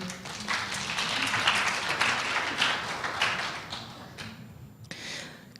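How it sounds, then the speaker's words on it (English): Scattered audience clapping at a church talk, a loose patter of hands that swells and then thins out toward the end, moderately faint in a large room. "Clap if you had issues breastfeeding."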